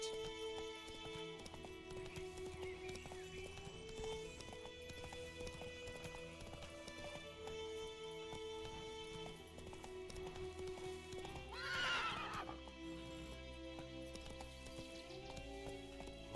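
Roach the horse in Witcher 3, hooves clip-clopping in a steady galloping rhythm with a sharp neigh near the end, over quiet game music.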